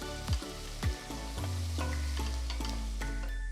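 Onions and green chillies sautéing in a pan for a Tamil tomato dish, heard as a steady close sizzle with a few louder stir scrapes early on and background music running throughout.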